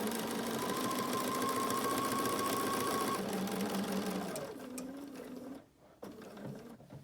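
A sewing machine stitches a fabric face mask, running in a steady close whirring hum, then slowing and pausing briefly as the needle stops down for a corner pivot before it starts stitching again.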